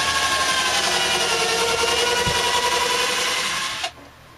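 A steady, continuous motor whine from a handheld cordless drill with a low battery runs for about four seconds, fairly loud and close, then cuts off abruptly.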